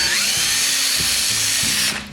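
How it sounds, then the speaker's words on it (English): A power drill fitted with a 1/4 inch bit bores into plastic in a steady, loud whine for about two seconds, then winds down as the bit stops. "Now for this M6, you use a 1/4 inch drill bit."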